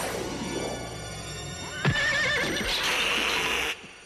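A cartoon horse lets out a long, loud whinny, with a brief thud midway and a rising squeal at the end, heard alone without talking.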